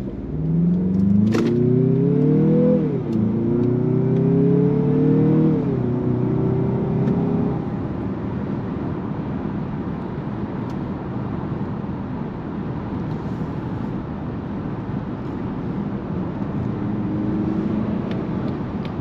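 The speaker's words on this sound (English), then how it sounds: "you can hear the shifting and the acceleration noise and all that stuff" Mazda CX-50 crossover accelerating hard, the engine note climbing through several gear shifts over the first seconds, then settling into a steady road roar and cabin hum, loud and close, no talk.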